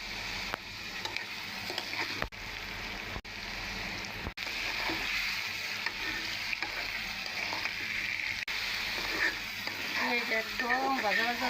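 Meat and prawns fry in a pan for a home-style curry, giving a steady, close sizzle and crackle that runs throughout, with occasional stirring clatter and a brief voice near the end.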